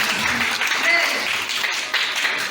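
A church congregation at a healing and deliverance seminar applauds and cheers, a steady broadband wash of clapping that holds for the whole moment, with voices calling out over it.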